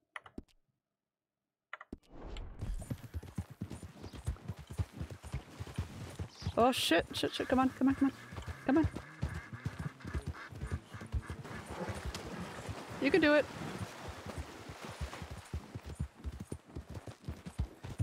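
Steady clip-clop of horse hooves at a gallop in the video game Red Dead Redemption 2, rhythmic and continuous, with someone talking excitedly over it.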